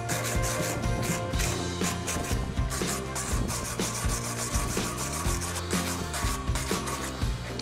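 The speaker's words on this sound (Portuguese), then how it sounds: "Vou passar a escova de aço só para ver como ficou melhor." A steel wire brush scrubbing a weld made with MIG wire on a coated stick electrode: steady, close, rhythmic rasping strokes that continue without pause and without talk.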